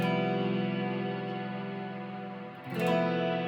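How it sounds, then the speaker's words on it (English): A sustained guitar chord rings out drenched in reverb and effects, then a fresh strum cuts in near the end and keeps ringing. "So I turned on some reverb here."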